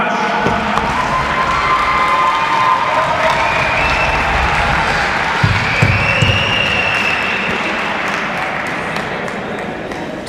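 Large arena crowd at an ice hockey match between Johannesburg Wild Cats and Pretoria Capitals applauds and cheers in a steady, loud wash, with scattered shouts and a few thuds, sustained for about ten seconds.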